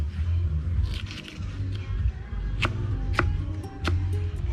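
A Scotch bonnet pepper is cut up with a knife for spicy crayfish, producing a few sharp, spaced knocks on a board over a steady background hum, close and moderately loud.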